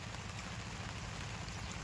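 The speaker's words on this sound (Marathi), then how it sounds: "आता जेवाय बसलो आणि पाऊस चालू झाला बरं का" Faint, steady stormy rain pattering and hissing without pause, with a low rumble underneath and no voices.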